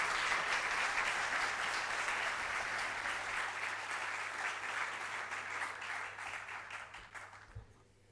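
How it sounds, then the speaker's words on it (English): Sustained applause from a conference audience at an academic event, steady and full for most of the stretch, then thinning out and trailing off toward the end. "let's do one more round of applause"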